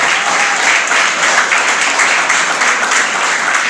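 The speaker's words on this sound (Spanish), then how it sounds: "¿Cuántos dan un aplauso al Señor por eso?" A church congregation applauds during a Spanish-language sermon, a loud, dense and even roar of clapping sustained throughout with no voices on top.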